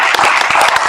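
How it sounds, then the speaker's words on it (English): Loud, close clapping from an audience at a local candidates' meeting, a short burst of sharp, distinct hand claps with no talk over it. "So please give yourselves a round of applause for welcoming those folks here."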